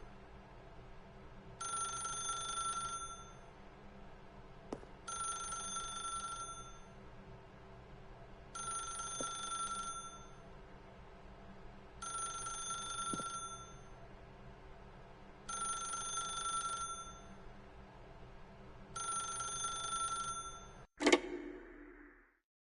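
Telephone ringing in The Stanley Parable: six evenly spaced electronic ring bursts, each about a second long with pauses between, over a quiet background hum, ending with a sharp click as the receiver is picked up.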